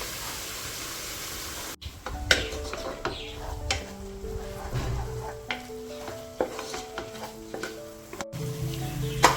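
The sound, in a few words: stirring and sautéing tomatoes in a pan for chicken biryani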